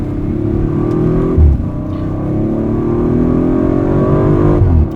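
An Audi RS5 V6 engine drones and revs steadily up through the gears, with brief dips at each quick shift, loud and close, heard from inside the cabin.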